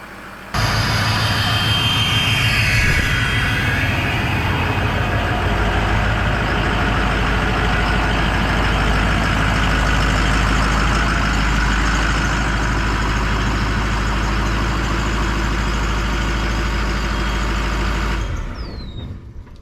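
A truck's 6.0 compound diesel engine idles loud and steady for almost twenty seconds, a deep constant rumble with hissing air on top, close by, with no talk, cutting off at the end.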